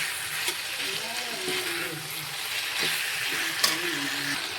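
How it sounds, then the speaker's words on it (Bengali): Potatoes and tomatoes fry in hot oil for a pangas fish curry, giving a steady, close sizzle throughout, with faint scraping of stirring and a few soft knocks. "আলুটা ভালোভাবে কষিয়ে নেব"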